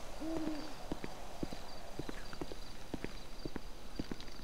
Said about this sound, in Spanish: Se escucha un búho por ahí.